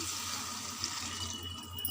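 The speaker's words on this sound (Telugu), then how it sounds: "మొక్క మునిగేంత వరకు వాటర్ పోసుకోవాలండి." Water pours steadily into a pan of drumstick and tomato curry, a continuous soft splashing stream with no voices.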